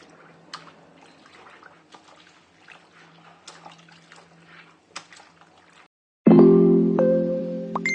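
Taro roots (arbi) are washed in water: faint drips and small splashes at first, then a sudden loud, steady rush of running water close by.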